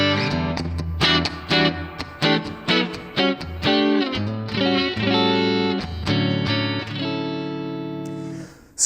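An electric guitar on its neck pickup plays through the clean channel of a Mesa Boogie Mark V 35 amp in 35-watt mode with the graphic EQ off, picking a rhythmic run of bright, ringing notes and chords that sustain into a final held chord.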